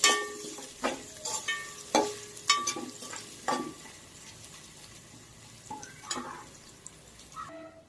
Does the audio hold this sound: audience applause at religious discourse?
no